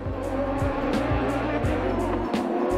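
Autocross race cars at a FIA European Autocross Championship final roar off the line, engines revving and shifting in rapid rising sweeps, several cars overlapping loudly with brief tire noise and a voice faintly underneath.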